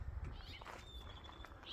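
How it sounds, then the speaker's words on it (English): A house cat at a rural homebase in Cruzville, New Mexico gives a faint, short meow amid quiet low background rumble. "I don't know what this cat is doing."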